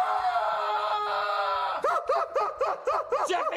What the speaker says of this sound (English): You're screaming!